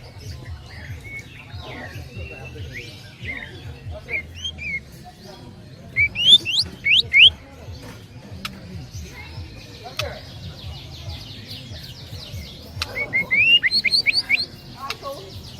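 Pet canary singing bright, rapid chirps and trills in scattered bursts, with low voices talking steadily underneath.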